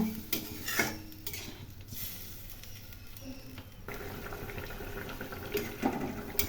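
A rohu fish curry simmers in a pan with water added, a soft bubbling boil heard close by, interrupted by clinks of a utensil against the pan and faint background noise.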